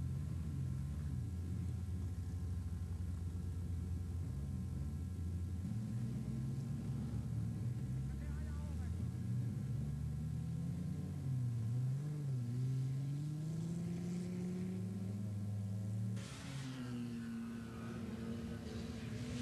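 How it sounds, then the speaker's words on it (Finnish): Volvo touring race cars from a 1987 racing season speed down the start straight at over 200 km/h, a steady loud engine roar with rising and falling pitch sweeps as cars pass, continuing throughout without speech. "Tässä kiidetään lähtösuoraa, jossa autojen nopeus nousee yli 200 kilometriin tunnissa."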